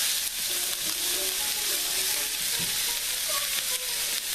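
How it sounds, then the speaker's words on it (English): Onions fry and are stirred in a pan, giving a steady, dense sizzle with occasional scraping strokes from the stirring, close and continuous, with no voices. "we'll be stirring this up a little bit until the onions get a little translucent"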